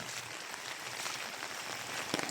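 Typhoon rain patters down steadily in an even, hissing wash, with a few slightly louder drops near the end.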